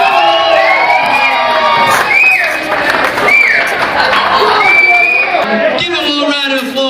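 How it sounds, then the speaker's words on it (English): An audience at a talent show final cheers and shouts with whoops and excited high-pitched voices, a loud lively crowd roar with clapping that rises and falls throughout. "Give them all a round of applause."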